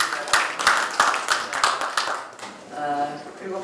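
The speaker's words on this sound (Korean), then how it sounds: "고용진 대변인께 박수 부탁드립니다." Audience at a Democratic Party supreme council meeting clapping in a brief round of applause that fades after a couple of seconds as a voice begins speaking.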